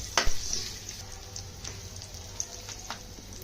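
Chopped garlic and curry leaves drop into hot oil with a sharp crackle at first, then settle into a soft, steady sizzle with scattered pops, faint and close.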